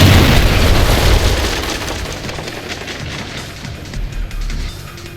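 A trip mine detonates in Splinter Cell Chaos Theory, a loud booming blast with a heavy low rumble that decays over several seconds, followed by a smaller thud near the end, with no talk.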